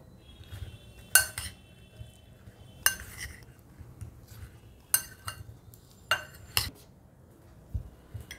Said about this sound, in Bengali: এবার আমি সব একসাথে মিশিয়ে নেব।